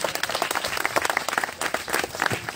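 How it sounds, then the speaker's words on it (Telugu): Audience applause at a Telugu church gathering: dense, steady clapping from many hands that fills the whole moment at a fairly loud level, with no speech over it. "చప్పట్లు కొడదాం ఒకసారి"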